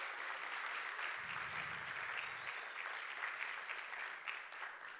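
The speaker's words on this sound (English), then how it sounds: "Give them a round of applause as well" A theater audience at a county address applauds the venue's board of directors, a steady, fairly distant wash of clapping that holds for five seconds without voices over it.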